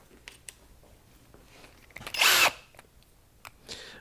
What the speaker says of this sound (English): And we're going to drive a couple of simple drywall fasteners.